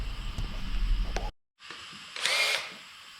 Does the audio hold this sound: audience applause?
no